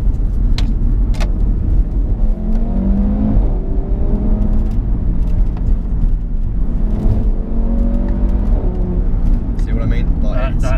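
Used Audi RS3 accelerating from inside the cabin, a steady low engine drone and road rumble rising in pitch through the gears, with a voice talking over it.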